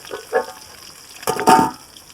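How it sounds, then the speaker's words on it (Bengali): Rohu fish fries in hot oil with a close, crackling sizzle that swells in two short bursts and then settles back to a low hiss. "দেখুন মাছটা কিভাবে ভাজা হচ্ছে রুই মাছ"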